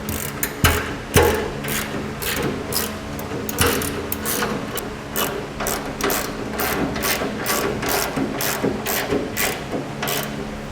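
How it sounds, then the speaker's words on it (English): A ratchet wrench tightens rail bolts to a frame bracket while a B&W Companion underbed kit is fitted to a 2017 GMC Sierra 2500, giving close, rapid clicking bursts in quick repeated strokes throughout. "Now we will tighten up our rails to our frame bracket."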